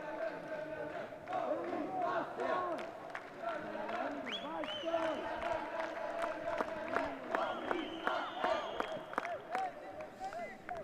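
Spectators in the stands at a men's youth handball game between Russia and Israel cheer and shout, with squeaking shoes and court noise under continuous commentary.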